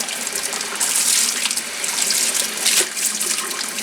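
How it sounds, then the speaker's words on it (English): Water runs steadily from a tap over a cast iron pan, splashing and hissing against the hard surface, with a few brighter spatters as the stream shifts. "Just run some water over it real quick"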